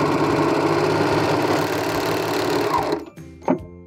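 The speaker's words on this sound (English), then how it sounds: "When you get back to the beginning, serge over it at least a ½ inch and then chain off." A serger overlock machine stitches a turtleneck seam with a fast, close, rhythmic mechanical whir that runs for about three seconds, then stops and leaves a few quieter clicks as the chain-off is finished.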